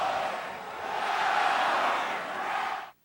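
A large stadium crowd roars in a broad, steady wash at Sam Boyd Stadium during a college football bowl game, swelling and dipping slightly before cutting off abruptly.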